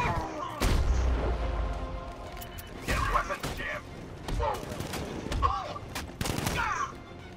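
Gunfire in the Batman: Arkham Knight video game sounds as repeated sharp shots and heavy booms in uneven bursts, mixed with thuds and crashes, while a voice talks over the fighting.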